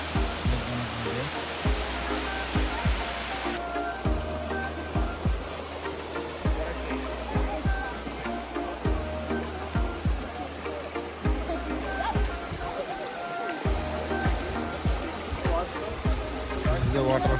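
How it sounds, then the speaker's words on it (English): Steady rushing of a Texas waterfall fills the scene, a constant broad wash of water nearby, with people talking over it and bumps of wind or handling. "This is the waterfall."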